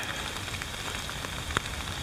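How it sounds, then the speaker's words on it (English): Heavy rain patters steadily onto a lake and the surrounding camp in a wilderness area during a downpour, a dense, even hiss with a faint, brief tap standing out near the end. "It's been raining pretty hard."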